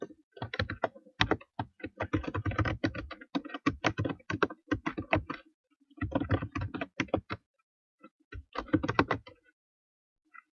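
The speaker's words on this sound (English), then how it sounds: "My typing's not too good." Quick bursts of typing on a computer keyboard, close and clear, with clustered keystrokes separated by short pauses and no voice.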